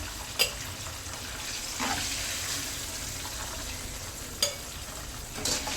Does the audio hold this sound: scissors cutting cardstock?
no